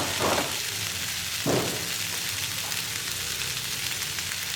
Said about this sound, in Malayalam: ഇപ്പോൾ ഇതൊന്ന് നന്നായിട്ട് ഹൈ ഫ്ലെയിമിൽ തന്നെ വെച്ചിട്ട് ഇളക്കിയെടുക്കുക കേട്ടോ